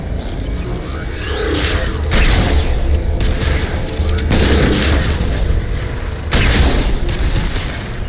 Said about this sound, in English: It's gonna blow! Fire in the hole!